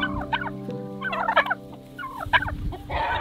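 A turkey tom on a farm gobbles in several loud, close bursts of rapid warbling calls, separated by short pauses, over a steady low background hum.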